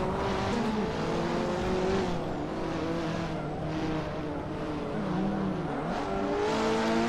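Race car engines rev and whine continuously in the Hot Wheels Unleashed racing game, loud and close, with shifting engine pitch and occasional tire squeal throughout.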